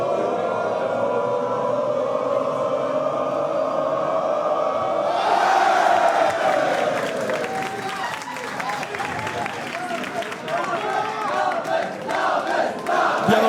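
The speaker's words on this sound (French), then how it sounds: "Et écoutez la foule, écoutez la foule." A wrestling arena crowd roars and cheers at a championship match, the noise swelling abruptly into loud, dense applause and shouting that stays high, with commentators talking over it.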